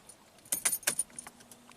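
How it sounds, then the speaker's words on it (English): Keys jangling as a key turns the ignition of a Mercedes-Benz AMG, a brief cluster of metallic clinks followed by a faint steady electrical hum. "Switch on ignition."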